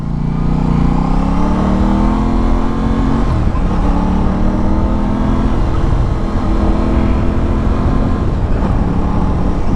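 A new motorcycle being ridden, its engine a loud, continuous drone with rising and falling pitch as the rider works through the gears, over steady road and wind noise.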